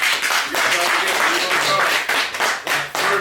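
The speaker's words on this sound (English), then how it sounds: "I need a clap for her" Dense applause and clapping from a studio audience honoring the first rapper guest on an interview show, a steady full wash of many hands lasting the whole stretch.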